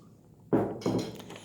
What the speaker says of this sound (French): Alors, dévisser le pot de confiture de fraises.